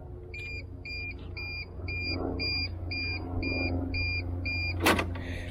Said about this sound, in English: If I try to turn it on, it gives you an audible alarm.